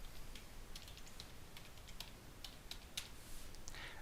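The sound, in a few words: typing a password on a computer keyboard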